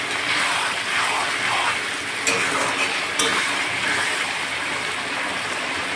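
Spicy chicken curry fries with onion, plenty of ginger-garlic paste and spices, giving a steady, loud sizzle close by, with a couple of brief scraping stirs breaking through.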